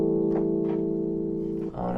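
A software FM synthesizer (FM8) holds a steady, buzzy harmonic tone, with a few soft note attacks layered over it and a brief dip near the end. It plays alone and fairly loud.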